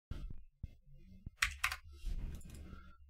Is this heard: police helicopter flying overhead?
no